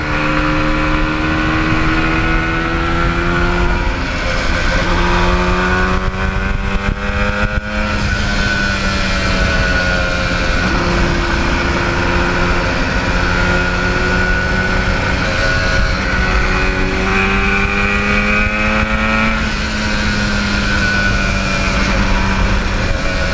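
An air-cooled Yamaha RD400 motorcycle ridden on a sunny day, its engine loud and close, rising and falling through repeated gear changes with steady throttle pulls and a brief lull midway.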